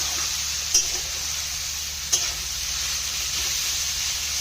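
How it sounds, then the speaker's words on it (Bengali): Onions frying until browned in a pan, steady close sizzle under continuous stirring, with two sharp clinks of a utensil against the pan. "পেঁয়াজটা লাল করে ভেজে নেওয়া"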